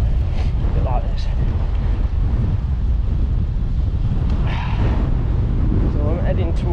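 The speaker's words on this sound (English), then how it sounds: "It is windy." Wind blowing across the microphone on a walk through the Edale Valley, a constant low roaring rumble with gusty swells and no breaks.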